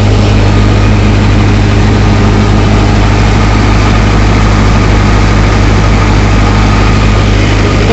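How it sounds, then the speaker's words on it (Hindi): A tractor engine runs steadily at 1600 rpm, powering a mustard thresher. It makes a loud, constant low-pitched drone with a firm hum and busy machinery noise layered above, unbroken and close, with no talking. "तो दोस्तों 1600 आरपीएम पे ट्रैक्टर चल रहा है"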